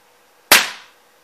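A single sharp, loud crack from a Crosman 150 air pistol firing a pellet at a target 15 feet away, decaying quickly into silence.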